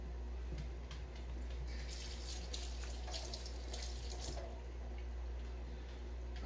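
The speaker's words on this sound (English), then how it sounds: "I'm going to wash my spoon." Tap water runs steadily into a kitchen sink while a spoon is rinsed under it, a continuous close splashing hiss with brighter bursts of clatter in the middle.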